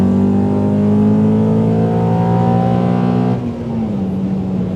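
BMW 530i engine revving, loud and sustained with a rising mechanical drone that eases off near the end, heard close and without talk.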